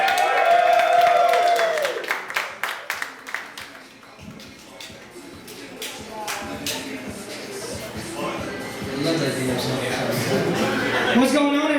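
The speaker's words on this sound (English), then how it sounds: "Please give a round of applause for Kevin Hollingsworth." A comedy club audience in East Texas applauds and chuckles as a local comedian is introduced, scattered claps and crowd murmur under a talking voice.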